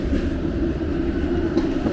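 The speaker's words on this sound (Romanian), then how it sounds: "și un tramvai din ăsta vechi" An old tram rolls along street rails in central Sofia, Bulgaria, a steady, close, low rumble with a faint rattle that continues throughout, with no voices.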